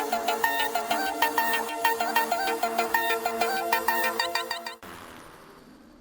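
Mobile phone ringtone playing a bright, repeating electronic melody, loud and steady for almost five seconds before cutting off abruptly into a quieter room tone.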